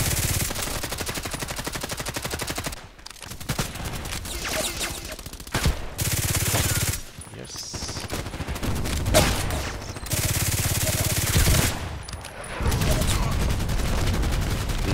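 Rapid sustained gunfire from the video game ADXsniper 98 fills the clip in loud, dense bursts, broken by a few short pauses between volleys.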